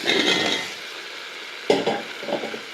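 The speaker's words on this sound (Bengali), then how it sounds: "দিয়ে একটু কষে নেব কুমড়োটা" Pumpkin pieces are stir-fried in spice masala, with a sizzling hiss and scraping of a spatula in the pan, then a sharp clack and a few more stirring scrapes, close and without talk.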